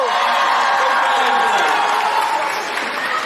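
A convention audience at a VidCon panel cheers and applauds loudly and continuously, a dense, close burst of claps and whoops that fades slightly at the end.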